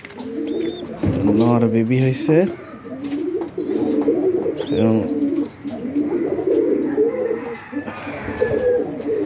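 Pigeons coo repeatedly in a close loft, their soft rolling calls steady throughout, with someone speaking over them.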